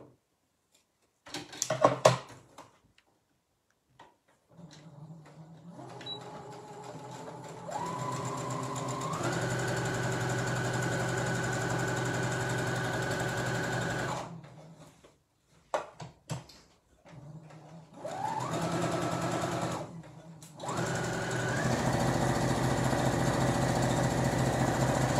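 A sewing machine stitches a fabric peg bag, running in steady motorized bursts with brief stops between them, one short back-and-forth stretch and then longer continuous runs, close and clear with no talking.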